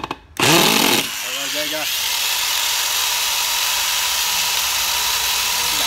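A Japanese-market 100V electric power tool running in hammer mode starts about a second in as a loud, steady, dense buzz that continues unbroken to the end, with a brief spoken remark just before it kicks in.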